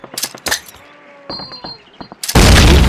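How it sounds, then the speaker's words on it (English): Frag grenades blowing up during Call of Duty basic training, scattered gunshots and thumps leading into one loud, close blast that roars on to the end. "Throw a grenade into each of the openings before you."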